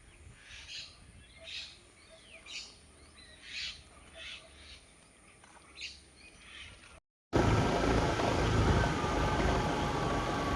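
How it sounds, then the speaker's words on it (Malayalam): Birds in a flowering tree call at a slow, regular pace over a quiet background, about seven clear chirps, then a sudden loud rushing noise takes over. "ഈ പൂമരത്താലൊക്കെ കുറേ കിളികളൊക്കെ ഉണ്ട് കേട്ടോ ഇവിടെ"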